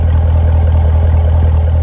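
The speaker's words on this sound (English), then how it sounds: "You can hear the exhaust right here." Exhaust from a Chevrolet Corvette Z51 runs as a loud, steady, close-up low rumble at idle, an even throb without revving or pauses.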